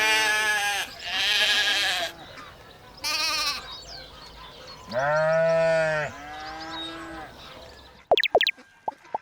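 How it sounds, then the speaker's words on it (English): Sheep bleat in several loud, drawn-out calls separated by short pauses, close and clear, followed by a few sharp clicks at the end. "It's a sheep."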